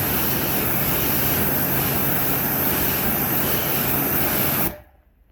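Kranzle K10/122TS pressure washer spraying water to hose down and wash a surface, a loud, steady broadband hiss running continuously at close range before cutting off abruptly near the end.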